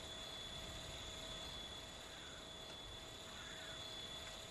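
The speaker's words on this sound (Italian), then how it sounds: "Un elicottero giocattolo." A toy helicopter flying somewhere off, heard as a faint, steady whine with a thin high tone over a soft, constant rotor hum, alone with no voices.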